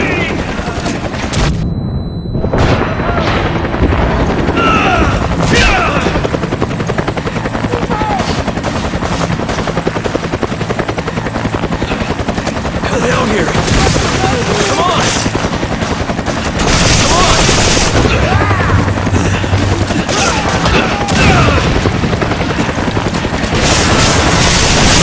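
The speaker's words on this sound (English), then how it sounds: "hear gunfire" Loud, sustained helicopter rotor noise in the action game Resident Evil 5 mixes with bursts of machine-gun fire and booms. The din is dense and close, and voices are heard now and then over it.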